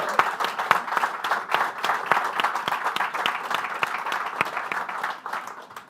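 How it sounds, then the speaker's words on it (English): Audience applause at a panel celebration event, a dense steady patter of many hands clapping with scattered sharper claps, moderately loud and continuous throughout without speech. "I just wanted to acknowledge her and offer a round of applause."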